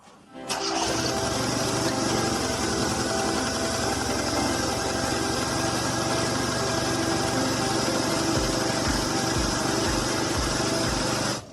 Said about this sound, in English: the engine is running rough and there's black soot appearing on the exhaust pipe